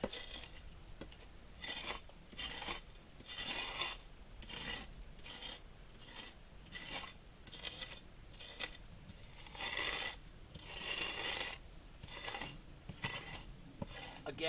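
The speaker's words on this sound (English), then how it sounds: "you can just scoop the charcoal out of these." A shovel scrapes charcoal out of a hollowed wooden trough in a repeated rhythm of gritty, rasping strokes, roughly one every second, close up with no talking.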